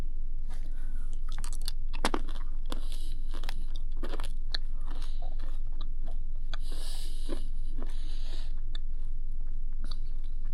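Big Chewy Nerds candy is chewed right at the mic, loud wet crunches and mashing in an uneven rhythm, continuous with no talking.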